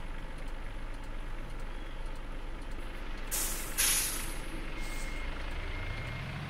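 Diesel truck engine idling steadily at a roadside market stop, with a sharp air-brake hiss bursting out partway through and a low rumble continuing underneath.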